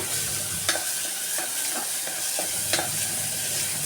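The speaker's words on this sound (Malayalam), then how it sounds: "എന്നിട്ട് നന്നായിട്ട് ഇതേപോലെ ഇളക്കി കൊടുക്കണേ" Spoon or spatula scraping and stirring soybean and chickpea curry in a pan over a low sizzle, with a few sharper clinks of utensil on metal.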